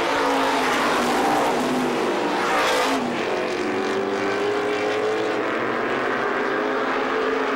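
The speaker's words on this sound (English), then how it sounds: "White flags out, 1 lap left for Bobby Gahan." 350 supermodified race cars roar around the Star Speedway oval in a steady, loud engine drone as the field passes, with a brief swell and a pitch drop as one car goes by close.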